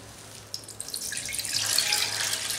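Buffalo milk is poured into a cooking pot, a soft liquid splash that builds into a fuller, steady pouring stream, close by and with no voices.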